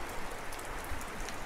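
Rain falls steadily in Georgia's mountain country around Mestia and Ushguli, a continuous broadband patter with no gaps and no voices.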